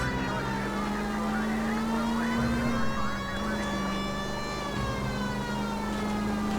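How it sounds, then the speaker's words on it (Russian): A police car siren wails continuously in the video game L.A. Noire, a loud, steady tone with a slight dip partway through, over faint engine rumble. "Я люблю ездить сиреной."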